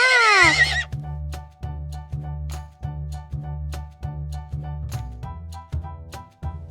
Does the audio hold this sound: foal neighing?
yes